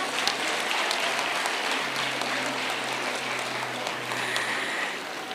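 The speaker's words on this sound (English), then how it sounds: "Can you clap for them, please?" Crowd at a girl guides centenary celebration clapping for guides being given awards, dense continuous applause throughout, fairly loud and even, with no voices over it.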